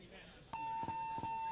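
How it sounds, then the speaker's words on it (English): A steady electronic buzzer tone at a competitive paintball match starts abruptly and holds for about a second, with brief voices and thumps around it. "I think I would have held off on the buzzer on that one"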